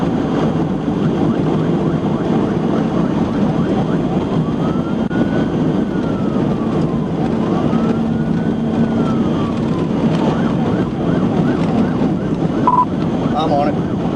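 Police sirens during a high-speed highway chase, faint wailing sweeps rising and falling over loud, steady wind and road noise, with some radio chatter underneath.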